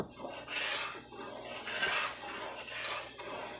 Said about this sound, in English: you have to sit here and constantly stir it until it gets to the color that you want